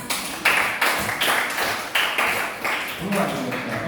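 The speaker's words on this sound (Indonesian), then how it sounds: "Tepuk tangan dulu semua." A group of people in a classroom clapping hands together in a brief burst, steady rhythmic claps repeating at roughly half-second intervals, fairly close and moderately loud.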